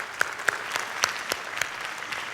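A high school jazz night audience claps for a baritone saxophone soloist, a fairly quiet, scattered round of applause with a few sharper claps standing out near the front.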